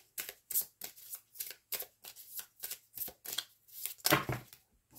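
A deck of tarot cards being shuffled by hand, a regular series of about a dozen quick riffling bursts with short pauses between them, close and crisp, with a louder burst near the end.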